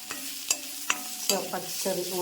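Onion, green chili and ginger-garlic paste fry in a pan for a Kerala-style coconut crab curry, with a spoon scraping and stirring in several sharp strokes over a steady close sizzle.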